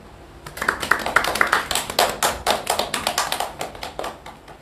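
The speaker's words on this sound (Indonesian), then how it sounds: "Mari kita tepuk tangan." A seated audience bursts into hand clapping after a talk. The claps are dense, loud and close, with a quick irregular rhythm that holds steady for several seconds and then thins slightly, with no speech over it.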